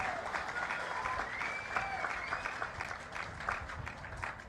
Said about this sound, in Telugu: వాళ్ళందరినీ గట్టిగా చప్పట్లు కొట్టి అభినందించండి.